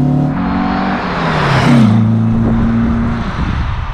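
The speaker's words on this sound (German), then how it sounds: "wenn man hier über 3000 Touren dreht, dann brüllt er auch richtig los, das hört man richtig" A 1964 Porsche 356 SC Cabriolet engine revs up loudly close by, climbing past 3000 rpm to a throaty roar before settling back into a steady low drone.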